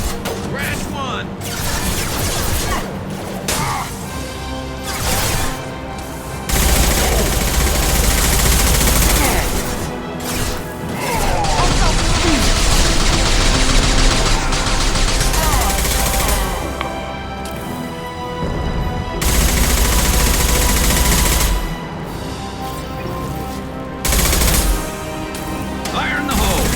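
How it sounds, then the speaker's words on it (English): Heavy gunfire and explosive crashes from a Mass Effect 2 firefight, with loud bursts of shots and impacts running almost continuously, easing briefly before resuming, mixed with game voices and speech. "Taking heavy fire."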